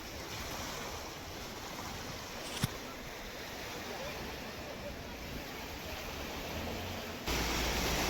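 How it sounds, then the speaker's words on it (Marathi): Loud, continuous roar of floodwater rushing under a bridge during a Krishna River flood in Maharashtra, broadband and unbroken throughout, with a brief knock partway through. "पाणी किती प्रेशरनं पुलाला ढकलत असेल"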